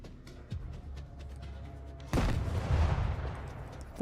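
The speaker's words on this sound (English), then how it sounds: "People are throwing fucking grenades at me again." Grenades explode in the shooter game S.T.A.L.K.E.R.: a muffled thump, then a loud close blast that rolls into a sustained rumbling roar with scattered crackling, and no speech.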